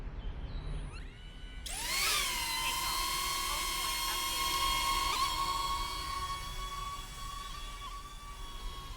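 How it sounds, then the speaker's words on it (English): A DJI Neo 2 small drone's propellers start up with a sharp rising whine, then settle into a steady high-pitched buzz with tonal harmonics, close by and continuous. "the prop sound is softer and less high-pitched than the older model"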